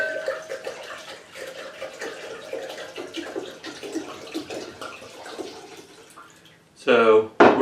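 Liquid pours into a container of moonshine cherries in a soft, steady wash: 140-proof vodka, 750 milliliters of it. A louder, brief splashing burst comes near the end.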